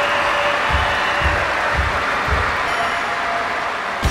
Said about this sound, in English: the fans know to applaud